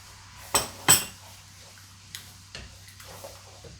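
A utensil clinks against the pot while homemade, frozen green curry paste is stir-fried in coconut cream: two sharp metallic clinks close together, then a few lighter, sparse taps in a quiet kitchen.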